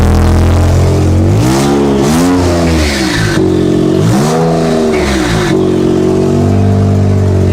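A twin-turbo VR30 V6 swapped into a Nissan 350Z revs loudly and close, with two sharp rising-and-falling throttle blips over a steady idle rumble, no talking.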